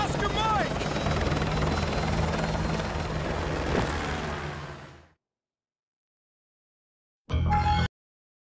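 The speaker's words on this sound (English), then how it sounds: "I'll brief you on the chopper." Military helicopter in Call of Duty: Modern Warfare 2 Remastered, a loud continuous rotor drone that holds for about five seconds and then fades out, followed by silence and a short, abrupt burst of sound near the end.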